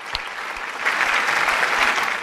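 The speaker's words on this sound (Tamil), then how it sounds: "பட்டிமன்றத்தினுடைய நிறைவு பேச்சாளராக உங்கள் கைத்தட்டலோடு நாஞ்சில் விஜயன் அவர்கள் வருகிறார்" A crowd at an Independence Day special debate event breaks into applause, dense, steady clapping that swells slightly and carries on without pause.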